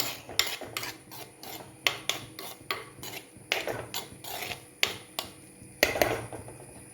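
Radish and beans thoran stirred in a pan, repeated rasping scrapes and clanks of a spoon against the metal in a steady rhythm, close and moderately loud.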